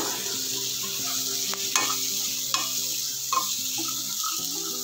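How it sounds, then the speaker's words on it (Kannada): Coconut and green chilli pieces sizzle steadily in hot oil in a pan, with occasional scraping and stirring clicks from a utensil, close and continuous. "ಸ್ವಲ್ಪ ರೋಸ್ಟ್ ಮಾಡಿ ನೋಡಿಪ್ಪ."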